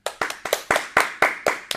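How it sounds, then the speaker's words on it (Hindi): Eight sharp hand claps in a quick, fairly even rhythm, close and loud, like a single pair of hands rather than a crowd. "इसी के साथ इनके लिए एक बार जोरदार तालियां।"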